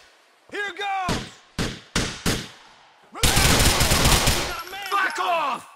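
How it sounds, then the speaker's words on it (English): Gunfire during a GTA IV video game shootout: sharp single shots, then a dense sustained burst of automatic fire, loud and close, with game voices shouting between and around the shots. "They're shooting at us!"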